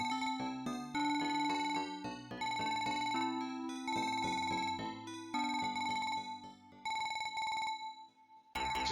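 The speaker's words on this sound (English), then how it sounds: "It just sounds like a telephone ringing." Lords of Thunder video game audio: a bright electronic tone trilling like a ringing telephone, repeating in bursts over chiptune-style music with steady harmonic notes, loud and continuous with short gaps.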